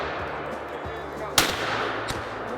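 A single sharp gunshot cracks out during a squirrel hunt in Mississippi woods, sudden and loud against a quiet outdoor background, followed by a fainter secondary report about a second later.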